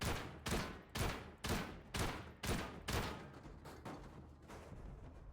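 Video game gunfire in a regular series of about ten heavy booming shots, roughly two per second, loud and close at first and then tailing off into fainter hits, with no talking.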